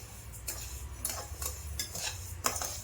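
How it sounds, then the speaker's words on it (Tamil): Repeated scraping of a utensil against a pan, stirring rice in short strokes at an uneven rhythm while dry-roasting it, close and moderately loud, with no talking. "ஒரு 5 நிமிஷம் கைவிடாமல் வறுத்துக்கோங்க."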